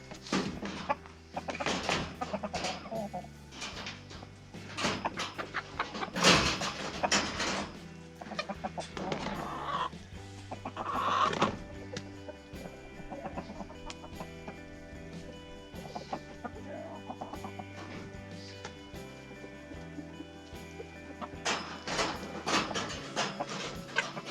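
Chickens cluck steadily on and off, with occasional louder squawks over a continuous background hum.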